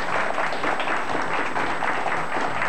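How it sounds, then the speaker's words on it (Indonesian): Steady, enthusiastic applause from a television studio audience, continuous and fairly loud without pauses. "tepuk tangan yang paling meriah buat kita"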